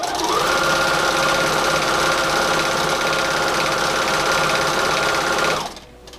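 A sewing machine stitches stretchy shirt fabric in one steady, loud, rapid mechanical run lasting several seconds, then stops abruptly, leaving a quiet tail.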